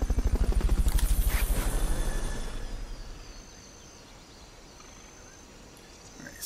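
A loud, pulsing rotor thrum of a helicopter in the video game Metal Gear Solid: Peace Walker fills the first few seconds, then fades away into a quiet background hum.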